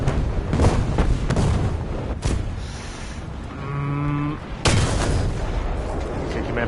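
Heavy tank cannon shots and impacts on a tank in War Thunder, loud booming blasts with rumbling engine noise and a tonal alarm-like whine between hits, and a voice talks over parts of it.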